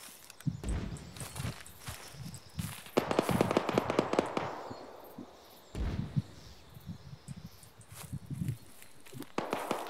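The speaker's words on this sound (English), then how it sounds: "Mortar firing, spread out." Mortar fire in the video game Arma, a series of sharp thumps and crackling blasts at irregular intervals, some near and loud, others distant, with footstep-like shuffling between them.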